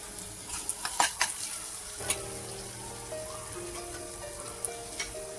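Masala and bitter gourd sizzle steadily in hot oil, with occasional scrapes and taps of a spoon stirring the pan.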